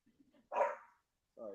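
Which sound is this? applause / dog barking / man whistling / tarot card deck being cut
dog barking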